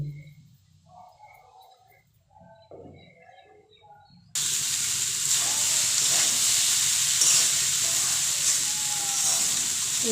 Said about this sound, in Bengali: একটু সময় নিয়ে ভাতটা ভেজে নিতে হবে